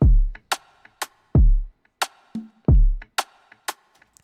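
A punchy percussion pattern of deep thumps and crisp clicks repeats in a loose rhythm, with faint echoing repeats trailing after each hit.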